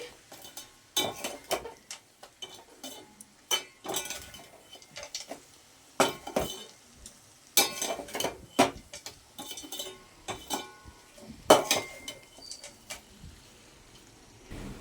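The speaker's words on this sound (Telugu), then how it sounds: "తగినంత ధనియా పౌడర్ వేసి మంచిగా ఇప్పుడు మరో 2 నిమిషాల పాటు సిమ్లోనే వేయించుకోవాలి." Bitter gourd masala with coriander powder being fried and stirred in a pan on a low flame, with repeated scraping and clinking of a spoon against the pan in short irregular bursts, close and fairly clear, with no talking.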